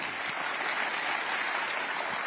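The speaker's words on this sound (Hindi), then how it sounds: "तालियों की गड़गड़ाहट" Dense, steady applause from a large studio audience at a televised Bollywood interview with Randeep Hooda, continuous and loud throughout with no talk over it.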